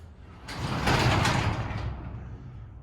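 Newly installed garage door rolling upward and then halting, a close rumbling slide with rattling metal that rises for about a second, then settles into a fading hum as it stops.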